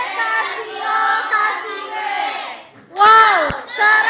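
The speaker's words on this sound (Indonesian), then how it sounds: "Sekali lagi, tepuk wow." A group performs the 'tepuk wow' clapping chant at an Indonesian teacher workshop, with loud, harmonised shouted voices in rhythmic bursts. A brief pause comes before a sharp, energetic final burst, and claps sound faintly within the chant.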